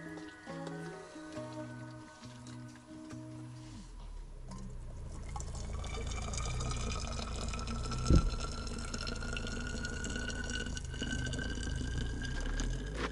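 Freshly boiled water being poured into a thermos at a roadside winter fishing camp on first ice, starting with a few clinks and tones, then a steady gurgling fill that runs on to the end.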